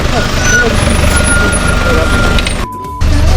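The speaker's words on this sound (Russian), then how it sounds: "А вот и 29 маршрутка, которая будет двигать нас в центр города." A route 29 marshrutka minibus pulls up to a stop in Lviv with a loud, close diesel engine rumble that briefly drops away near the end before resuming.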